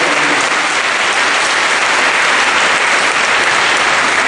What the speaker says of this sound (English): give them a big hand clap right now